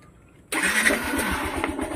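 After a half second of quiet, the starter cranks a Yamaha YTX motorcycle engine and it catches at once, settling into a steady, close idle.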